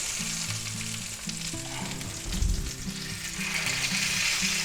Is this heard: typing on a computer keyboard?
no